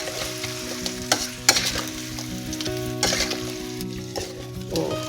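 Shrimp frying in a wok, loud continuous sizzling with scraping stirs and clacks of a utensil against the metal, close up.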